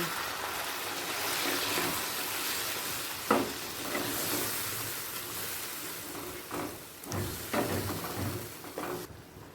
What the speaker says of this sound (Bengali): এরপর দিয়ে দিচ্ছি গরম জল